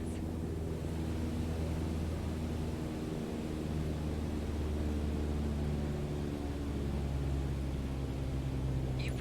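Steady, unchanging drone of a Cessna 152 engine throttled back to 1800 RPM in Flight Simulator 2020, a continuous broadband roar with even tone throughout and no voices.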